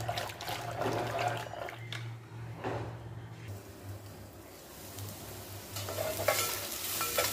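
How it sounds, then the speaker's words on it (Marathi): Masala paste roasting in a pan while being stirred, a soft sizzle with scraping strokes and a low hum throughout, fairly quiet and close, no talking. "छान आपली पेस्ट भाजत आलेली आहे"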